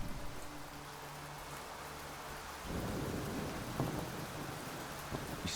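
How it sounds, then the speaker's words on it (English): Steady rain hisses in a dark storm-belt area of the game Sancticide, with low rumbling thunder rolling underneath and a heavier swell of rain and thunder partway through. "It's always raining down here."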